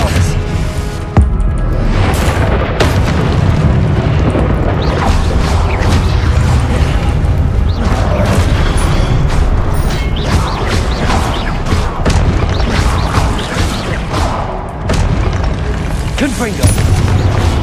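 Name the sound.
Confringo blasting spell explosions in video game Hogwarts Legacy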